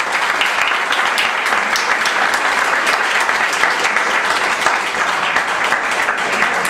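Audience at a human rights competition certificate ceremony applauding, a dense, loud, steady wash of many hands clapping throughout with no break.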